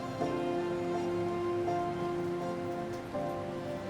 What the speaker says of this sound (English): It was raining outside the window.